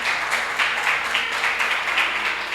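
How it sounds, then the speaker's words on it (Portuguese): A church congregation claps for their pastor in a steady, dense round of applause with gentle surges, close by and without speech. "Vamos dar uma salva de palmas para o pastor Ricardo."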